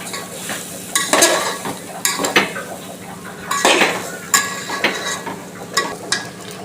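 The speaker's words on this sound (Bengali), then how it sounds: "ভালো করে ভেজে নেব চালটা।" Rice is stirred and fried in a pot for basanti pulao: a quiet sizzle broken by a repeated metal spoon scraping and clanking against the pot, several strokes close by.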